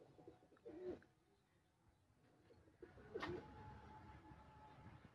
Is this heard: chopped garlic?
no